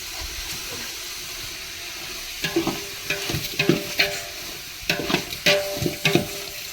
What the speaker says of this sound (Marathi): आणि मग आता आहे ना मस्तपैकी हलवून घ्यायचं एक बार